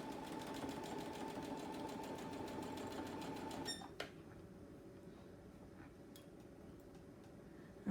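A sewing machine stitches a quilt square with a fast, steady mechanical chatter while doing a back stitch. After a few seconds it stops abruptly, leaving a quiet room with faint ticks.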